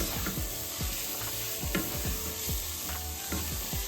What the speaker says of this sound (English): add in a little bit of flour, about 2 tablespoons, and stir